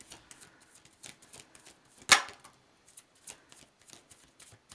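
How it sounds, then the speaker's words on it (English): A deck of tarot cards is shuffled by hand in quick, uneven riffles and slaps, with one sharp louder snap near the middle, close and quiet, with no voices. "Let's try and get a full shuffle before we start having the cards flying out."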